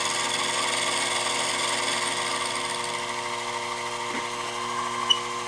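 Milling machine cutting a wooden main mast head at 1 millimetre depth, a steady tonal motor whine with a faint cutting texture, continuous and close, with no talk.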